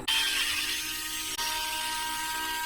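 Screws being removed from the steering mechanism of a DC10 RC car with a small power driver, which gives a close, steady, high-pitched whine that briefly dips and then keeps running.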